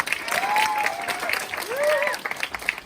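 An audience claps to open a beauty creator academy session, a steady wash of applause filling the room under faint voices.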